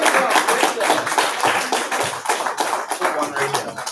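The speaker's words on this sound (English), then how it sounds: "Y'all give your host Aisha a round of applause." A small group applauds the host of a Bahamian community gathering, with brisk, close hand claps fluttering in rapid bursts while voices call out over them.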